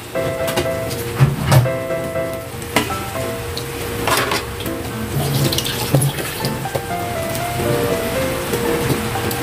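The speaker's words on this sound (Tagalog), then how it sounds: "pag ulan." Steady rain falls outdoors in a continuous wash of drops and spatters at close range, with occasional louder drips standing out and no talking over it.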